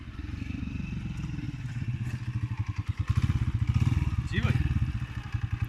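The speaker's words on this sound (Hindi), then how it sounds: "सामने आते एक बाइक वाले से ही लिफ्ट मांगने का सोच लिया।" A motorbike draws near on a highway, its engine a throbbing low rumble with a rapid pulsing beat that grows louder and closer, under a voice talking over it.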